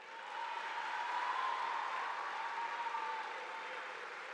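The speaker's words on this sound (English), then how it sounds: "Please give a round of applause to all the parents." A high school graduation audience applauds for the parents, a soft, steady wash of many hands clapping that swells and holds for several seconds, heard from a distance and fairly faint.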